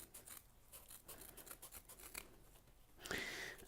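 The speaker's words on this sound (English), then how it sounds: "you can actually cut them with a pair of scissors like so" Scissors snip through a stiff abrasive polishing sheet in a quick series of crisp cuts, close up, followed by a louder scraping rustle at the end.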